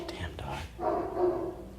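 A dog barks a few times in the background of a room where a car stereo receiver is being installed, fairly faint and partly under low muttered talk.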